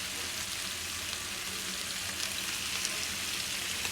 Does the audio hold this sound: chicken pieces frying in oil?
yes